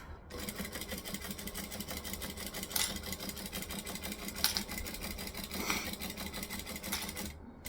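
A sewing machine stitches a jelly vinyl pouch in one continuous run, its steady rapid mechanical whir and needle clatter going nonstop, close and fairly quiet, with a few louder clicks along the way.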